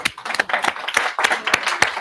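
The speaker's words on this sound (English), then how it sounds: "give a round of applause, Prentice" Live audience applause at an event, a short burst of brisk, fairly close clapping with distinct individual claps in an uneven rhythm.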